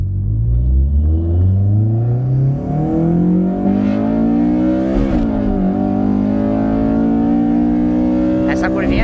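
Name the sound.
Honda Civic Si engine roaring while driving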